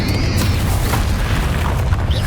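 Confringo blasting spell from Hogwarts Legacy, a loud continuous booming blast with heavy low rumble filling the whole moment, no voices over it.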